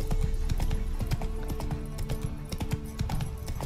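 A horse gallops in Witcher 3: Wild Hunt, its rapid hoofbeats drumming loudly and steadily over a busy game soundtrack, with a brief whinny-like tone mixed in.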